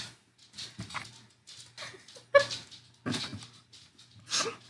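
A house dog whimpers and yips in short, separate bursts with quiet gaps between them, close by and fairly soft, with no talking.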